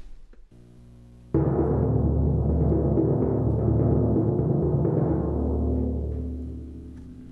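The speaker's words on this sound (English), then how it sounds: "if it's going to be a D on the 32-inch drum," A slower timpani roll on D played on the low 32-inch drum: a deep, booming sustained roll that starts abruptly after a short quiet lead-in, holds strong for several seconds, then fades.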